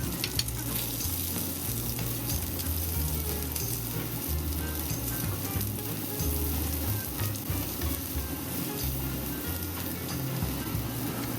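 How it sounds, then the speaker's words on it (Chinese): Chopped onions hiss and crackle in melted butter in a pan for Japanese gyudon, a continuous close sizzle with a low steady hum underneath and no pauses. "黄油化开之后，我们就将洋葱倒入锅中，"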